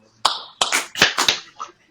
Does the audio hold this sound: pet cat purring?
no